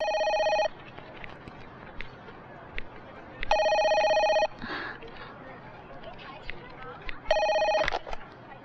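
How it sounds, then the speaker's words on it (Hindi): A telephone rings in three electronic bursts with pauses between, loud and near, while people speak and move in the background. "फोन है।"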